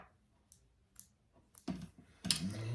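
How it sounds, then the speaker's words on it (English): Scissors cut sewing threads during work on a fabric eyeglass case: a few light, spaced clicks, then two louder, fuller snips, heard close with no talking. "Cut your threads."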